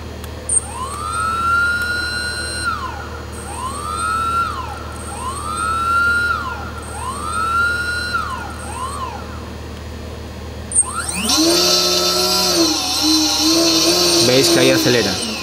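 A ZMR250 quadcopter's brushless motor whines up repeatedly in rising pitch sweeps, then surges into a louder, denser sustained whine as throttle climbs, heard close with no talk.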